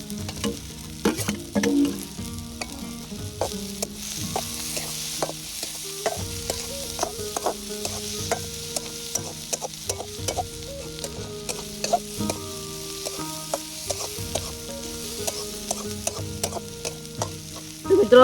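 Corn kernels tossed into a hot pan and stir-fried for a village-style Gujarati mixed vegetable dish, with a steady sizzle and repeated scraping and clinking of the stirring spoon against the pan, close and continuous.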